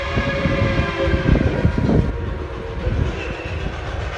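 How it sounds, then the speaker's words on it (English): A K-28 narrow-gauge steam train rumbles and clanks along the rails close by, with heavy rolling noise, metallic squeals and rhythmic knocking as it moves off. "our train begins the journey back south to Durango"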